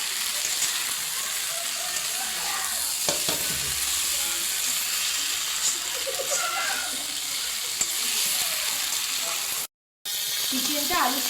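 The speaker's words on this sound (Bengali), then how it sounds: "চিকেনটা আলুর সাথে ভালো করে কষে নেবে।" Chicken and potato pieces stir-fried in a pan with no water for a Bengali chicken aloo curry, a steady sizzle with scraping stirs throughout and a brief silent gap near the end.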